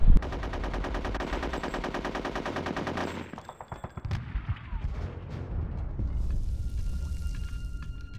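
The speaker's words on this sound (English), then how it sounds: "Also in Live and Reloaded, you only have one machine gun" Sustained machine gun fire from the single, easy-to-aim weapon in the war level of Conker: Live and Reloaded: a dense rapid rattle for about three seconds, then scattered bursts, booms and battle noise.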